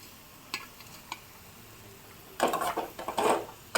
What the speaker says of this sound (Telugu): అన్ని ఆనియన్స్ రెడీ అయ్యాయి ఇలా ఫ్రై చేసుకోవాలి